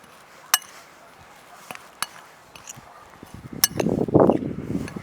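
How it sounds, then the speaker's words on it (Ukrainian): Seasonings for ribs, including dried basil, sun-dried tomatoes and curry spice, stirred together in a bowl, giving a few sharp clinks of utensil on the bowl and then a louder stretch of scraping and mixing near the end. "Усе перемішую"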